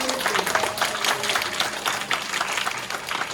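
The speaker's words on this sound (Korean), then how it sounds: "박수 한번 부탁드립니다." A church youth congregation at a Sunday service gives a steady round of applause, a dense, fairly loud clatter of many hands in a room with faint voices underneath.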